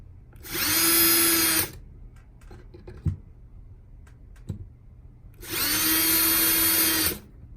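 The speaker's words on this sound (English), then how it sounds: "So I'm gonna put 4 holes so I know where to drill." A power drill whirs loudly twice in long bursts drilling mounting holes for a Nest Protect smoke alarm, each winding up and down, with a few small knocks in the quiet between.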